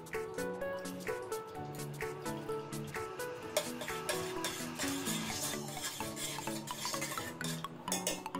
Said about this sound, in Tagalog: Mix na natin maigi yung turmeric natin